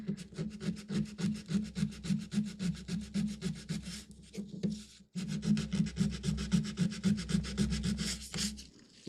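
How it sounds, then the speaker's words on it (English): Someone sands the tops of small wooden pieces by hand, producing steady rhythmic back-and-forth rasping strokes, close and fairly loud, with a brief pause midway before the scraping resumes at the same pace. "I'm going to sand all the tops too."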